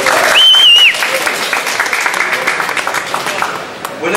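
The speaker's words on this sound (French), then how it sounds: "On applaudit d'abord." An audience applauds in a presentation hall for the AmigaOne X1000 computer with a dense burst of clapping, loudest at the start and slowly thinning, while a short whistle-like tone rings out early on.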